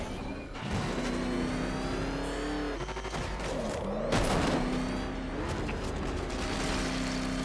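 A race car engine in the video game Batman: Arkham Knight revs loudly and steadily, its drone rising and falling over about seven seconds, with mechanical clunks and one sharper surge near the middle.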